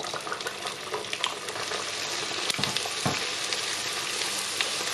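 Vietnamese puffed bread (bánh tiêu) fries in hot oil, giving a dense, steady sizzle and crackle with occasional louder pops and stirring clatters, close and continuous without speech.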